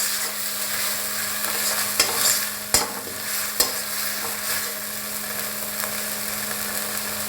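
Onion and mustard paste fry in a pan with a loud, steady sizzle, and a few sharp utensil knocks and scrapes come as it is stirred. Nobody speaks.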